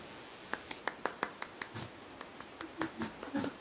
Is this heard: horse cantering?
no